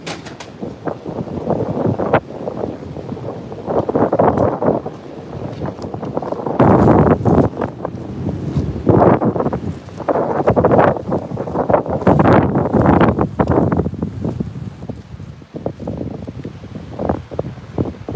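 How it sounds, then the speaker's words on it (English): Heavy wind buffeting a microphone outdoors, with continuous low rumbling gusts that rise and fall throughout. "Oh, it's windy out here."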